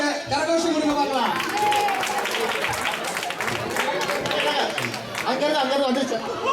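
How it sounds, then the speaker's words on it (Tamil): A crowd at a 2015 Pongal festival gathering applauds the Twitter team with sustained clapping and cheering, loud and close throughout, mixed with chatter and an announcer's voice. "ட்விட்டர் டீமுக்கு ஒரு கரகோஷம் கொடுங்க பார்க்கலாம்"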